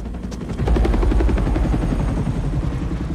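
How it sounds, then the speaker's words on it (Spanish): A helicopter in Spider-Man 2 roars loudly close by, its rotor thumping in a fast steady rhythm, with a sharp burst of gunfire-like rattle mixed in. "No me diga que vino un helicóptero a coger dos adolescentes en una escuela."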